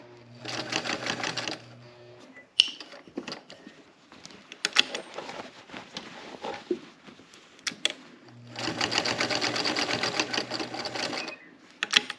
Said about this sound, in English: We're going to have to sew across this top one more time to get to the other side.